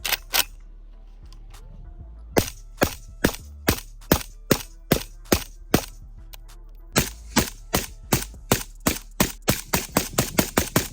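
PSA Krink rifle firing suppressed with a Sandman S suppressor, e-brake and adapter: sharp close reports, first single shots with pauses, then steady strings of rapid fire, with a low hum between shots.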